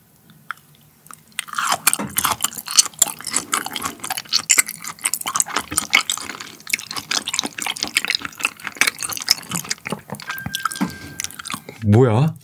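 Yellowtail amberjack sashimi dipped in soy sauce and eaten up close, with wet chewing and soft biting sounds repeating steadily, broken by brief moments of speech.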